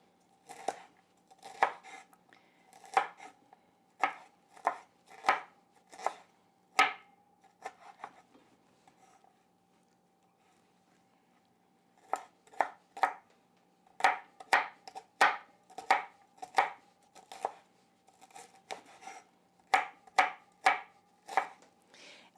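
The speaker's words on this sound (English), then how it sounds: "being careful to keep my fingers out of the way of this sharp knife, I'm just going to make really small" A sharp knife chopping broccoli stems into small bits on a cutting board, in quick rhythmic runs of crisp close taps, pausing for several seconds midway before resuming.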